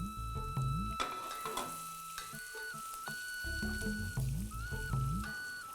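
Dry red chilies sizzle in hot oil for a dal tadka, a steady close frying hiss with some stirring, under background music.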